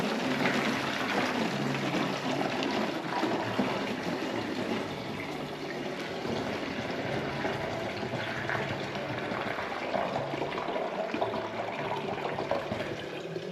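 Filtered water from a Clearly Filtered water filter runs steadily into a drinking glass for over a dozen seconds, a continuous close splashing gush with no talking.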